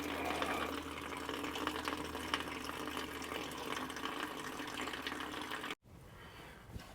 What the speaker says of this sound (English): It tends to collect quite a bit of water. I'm just gonna let this drain out